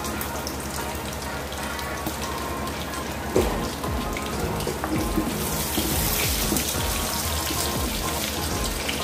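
Onions dropped into hot oil already tempered with fennel seeds hiss and crackle in a steady, close sizzle, with scattered spatters and pops through a home-style veg curry.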